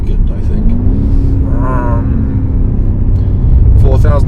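A 2021 BMW M5 Competition with an 8-speed gearbox, manually downshifted to second, pulls hard with a steady engine drone that rises in pitch, a louder surge near the end, while someone talks over it.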